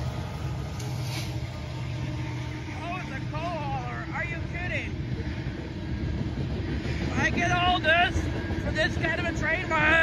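Eastbound Norfolk Southern coal train passing at moderate speed in rain in Wauseon, Ohio: a continuous low rumble and rolling clatter throughout, with intermittent wheel squeals rising near the end.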